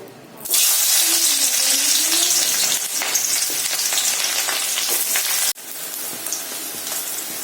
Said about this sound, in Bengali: তেল এখানে গরম হয়ে গেছে, এবার আমি পেঁয়াজগুলোকে ভেজে নেব।